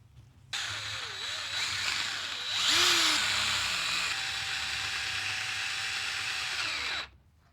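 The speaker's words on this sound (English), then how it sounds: "we're just going to drill these holes out." A power drill whines steadily for several seconds, drilling out holes in a Mayones Duvell Elite guitar, pitch rising as it bites in, then cuts off abruptly; close and fairly loud.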